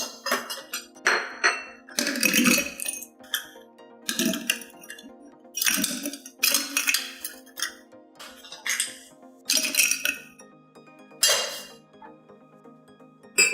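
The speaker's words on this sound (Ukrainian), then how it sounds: "Далі додаю лід до келиха." Ice cubes are dropped into a highball glass for a Cuba Libre, giving a series of close, bright clinks and rattles in irregular bursts as each cube lands and settles, with no talk.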